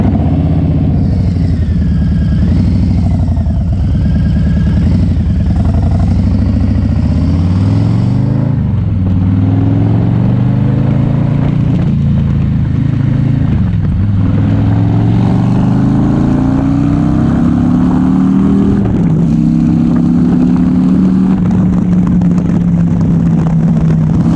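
A motorcycle fitted with an RBW Skull exhaust idles loudly and close by, with the engine rising and falling through several revs in turn and no talk over it.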